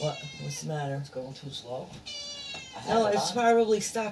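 A house cat meows repeatedly indoors, its calls close and clear over and between a woman's conversational speech.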